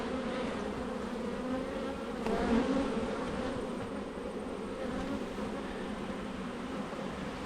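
Honey bees swarm around an opened backyard hive during a honey harvest, their dense, continuous buzzing filling the air close by, swelling briefly louder midway as bees pass near, with no voices.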